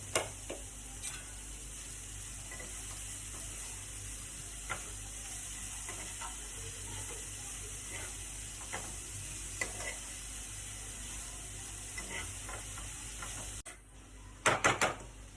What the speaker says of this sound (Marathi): आतां आमी चॉप केल्ली भाजी घालया आनी तिका मातसो चाळ मारपाचो